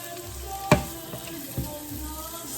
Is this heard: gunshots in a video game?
no